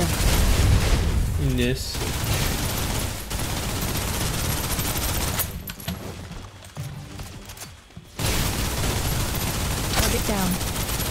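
Suppressive gunfire in the shooter game Snowbreak, loud rapid shots and bursts mixed with booms, briefly easing in the middle before resuming, with a game voice speaking over it.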